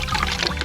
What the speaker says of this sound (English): Get a bucket of water, and then we just take her and dunk her in.